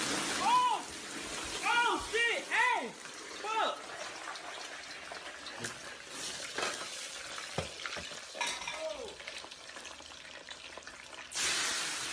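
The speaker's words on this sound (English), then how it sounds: "cooking fries gone wrong" Fries cooking in hot oil, a steady crackling sizzle with stirring and clinking through it, a burst of louder hissing near the end, and a voice talking over parts of it.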